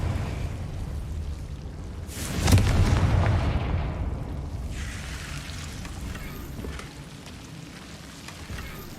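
A Confringo blasting spell in Hogwarts Legacy goes off with a loud booming burst that swells into a rumbling roar and slowly trails away under steady game ambience, with no talk.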